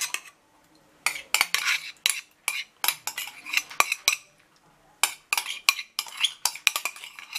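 Shrimp salad being mixed in a bowl, a string of sharp utensil clinks and scrapes in short uneven bursts with brief pauses between, close and fairly quiet.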